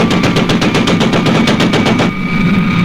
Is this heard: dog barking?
no